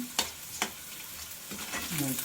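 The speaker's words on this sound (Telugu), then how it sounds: "ఇలా వేగినాయి ఎల్లుల్లిపాయలు" Garlic cloves frying in hot oil give a soft, steady sizzle, broken by two sharp scraping stirs near the start and a brief clatter toward the end.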